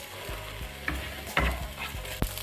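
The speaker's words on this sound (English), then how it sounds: "Just use the garlic, saute that." Garlic and celery sauté in oil in a pan, with a steady close sizzle broken by several louder stirring scrapes and clatters.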